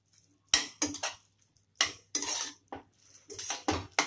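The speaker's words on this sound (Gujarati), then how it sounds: "હવે બધું સરસ આપણે મિક્સ કરી દઈશું." Salt being mixed into a Rajwadi mung bean curry, heard as bursts of metal spoon scraping and clinking against a pot in quick irregular strokes, close up, with quiet gaps between and no voices.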